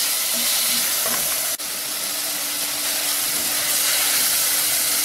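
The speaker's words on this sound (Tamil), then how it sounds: "வெங்காயம் தக்காளி நல்லா வதங்கட்டும்" Onions and tomatoes sauté in a pan with turmeric for a tamarind bean curry, giving a steady, close broadband sizzle and hiss with a brief soft clatter near the middle, no voices.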